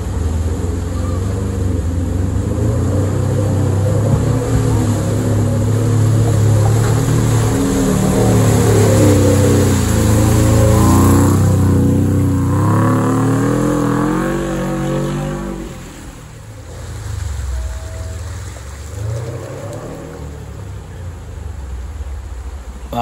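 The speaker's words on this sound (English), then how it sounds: "I love the echo, the sound of that boxer engine" A rally car's boxer engine revs hard at a forest rally stage near a river crossing, a loud sustained, echoing roar with no talk that swells, then fades and drops back toward the end.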